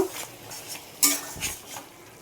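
A spoon scrapes and knocks against a pan while lemon chicken with lemon juice and ghee is stirred, giving a few close metallic clinks over a faint sizzle, with no talking.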